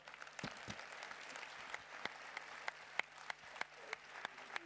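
Steady applause from a conference audience, a continuous wash of clapping with a few sharper individual claps standing out near the listener.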